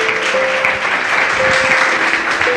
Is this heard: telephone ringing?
no